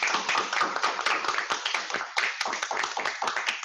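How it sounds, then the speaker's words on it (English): Brief round of applause closing an academic online seminar on Chinese politics, a small group's scattered handclaps with uneven rhythm, moderately close and steady for a few seconds with no voices. "let's finish with a brief round of applause"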